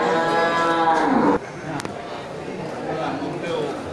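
A local jumbo cow lets out a loud, drawn-out moo up close, its deep harmonic call fading after about a second into crowd noise and murmured talk at a livestock market.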